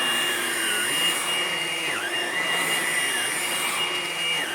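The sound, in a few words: Hoover Blade Plus vacuum cleaner running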